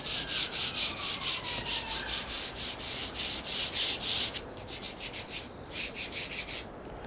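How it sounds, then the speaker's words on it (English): Wood on a cabin rebuild being hand-sanded before varnishing, in steady rhythmic back-and-forth strokes, about a dozen close and loud, then a short pause and a few more strokes, alone. "It's a quick rub down"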